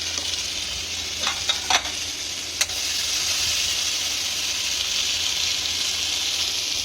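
Cashew and coconut spice paste sizzles and fries steadily in a hot pan, opening with a few sharp clatters of stirring before settling into a continuous loud hiss with no talk.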